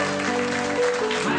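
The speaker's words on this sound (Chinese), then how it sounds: "我们就邀请我们今天的晚上寿星公和尚老太前来，我们一起掌以掌声来欢迎" Applause greets an elderly man arriving at his 79th birthday celebration, a steady, dense wash of clapping from a crowd that swells slightly midway and carries on throughout.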